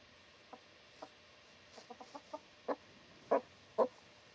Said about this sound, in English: you heard the sound change. That means you have a live chicken.